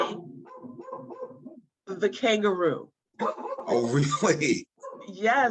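A dog barks in short bursts behind and between two people conversing, the yapping most noticeable around the pauses in their talk.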